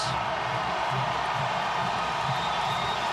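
A stadium crowd at the 2009 South Carolina vs. Tennessee college football game, Volunteers in black jerseys, roars and cheers. The sound is a dense, unbroken wall of noise from thousands of fans, steady and loud throughout.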